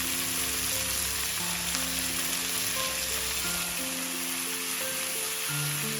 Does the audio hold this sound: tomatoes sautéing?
yes